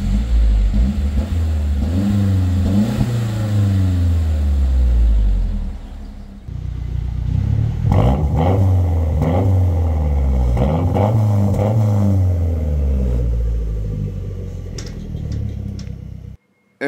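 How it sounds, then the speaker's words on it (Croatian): A Mazda car with a modified exhaust revs up in sustained loud, rising and falling sweeps, a brief dip near the middle before it climbs again, cutting off at the end. "čisto da čujete kako sad bruji Mazda"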